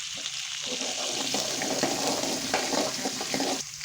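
Green chillies frying in hot oil for upma give a steady, close sizzle and crackle, with a few light stirring scrapes, for about four seconds and with no voices.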